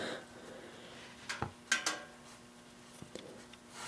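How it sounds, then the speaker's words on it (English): A metal oil drain pan slides under a Yamaha Road Star motorcycle with a few faint scrapes and light clanks, separated by quiet gaps. "Next, slide your pan under your bike"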